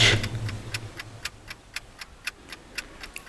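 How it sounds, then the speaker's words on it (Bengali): A clock ticks steadily as a sound effect in a horror story, a dozen or so crisp, evenly spaced clicks at a brisk rhythm, close and alone. "শুরু হলো ঘড়ির আওয়াজ"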